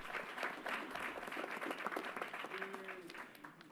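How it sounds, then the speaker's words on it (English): Audience applause during a public announcement at Yankee Stadium in New York, a steady broadband patter of many hands that fades slightly toward the end, with faint voices mixed underneath. "Let's give them a round of applause"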